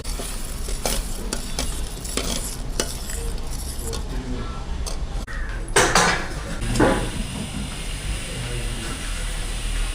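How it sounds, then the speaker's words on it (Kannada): Milk boils in a pot with tea, bay leaf, ginger, cloves and cardamom for Irani chai, a dense steady bubbling hiss with occasional utensil clatter and a louder surge midway. "ಈಗ ಇದು ಹಾಲು ಚೆನ್ನಾಗಿ ಕುದಿ ಬರ್ತಾ ಇದೆ"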